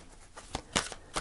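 Tarot cards being shuffled by hand, a few soft papery riffles and slaps in quick bursts, close and quiet with no talking.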